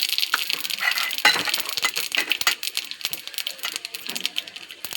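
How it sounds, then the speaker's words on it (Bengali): Bay leaf and radhuni seeds crackle and sizzle in hot oil for a Bengali greens dish, a dense run of sharp pops and spits over a soft hiss, close and fairly loud, with no talking. "দিচ্ছি তেজপাতা ফোড়ন, আর দিয়ে দেবো এই যে রাঁধুনি ফোড়ন"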